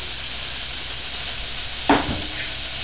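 Finely chopped Vidalia onion drops into a pan of hot olive oil, a steady close sizzle with a brief burst of crackle and hiss as the onion hits, no talking.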